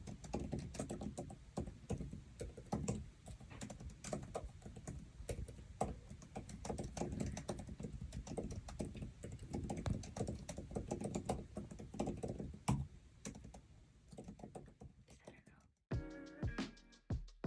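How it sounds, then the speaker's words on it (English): Rapid, close clicking keystrokes on an Apple Magic Keyboard for the M1 iPad Pro, a steady patter of crisp taps and presses that stops near the end before a few final clicks. "The combination of how the keys press and click, it makes it a really satisfying experience."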